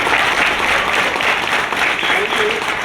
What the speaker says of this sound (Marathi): पहिल्यांदा सागर साहेबांच्या आई वडिलांसाठी जोरदार टाळ्या वाजवा सगळ्यांनी